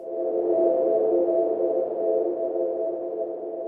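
A Harmonic Bloom synthesizer by Sonora Cinematic, set to red noise with its fundamental frequency up and harmonics down, sustains a soft, airy pad tone with a gently humming mid-range, steady and quiet throughout.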